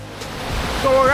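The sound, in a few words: rushing water of a waterfall on a trek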